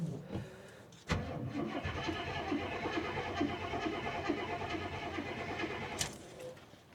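A Chevrolet Suburban's engine cranks hard for several seconds, a loud mechanical churn that begins with a sharp jolt and runs steadily before cutting off abruptly, with a brief rattle at the end.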